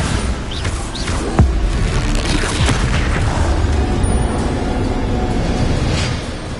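A Bombarda spell detonates in Hogwarts Legacy, a loud booming blast with a heavy low rumble that keeps roaring and crackling for several seconds before easing off.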